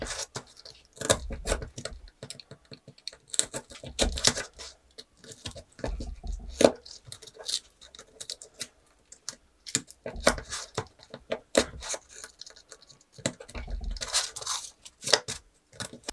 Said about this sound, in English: Now that it's dry, cut out the corner pieces.